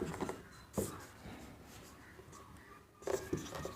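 A pen scratches out a maths solution on paper, soft intermittent strokes and taps close by, faint and broken by pauses with a couple of louder marks.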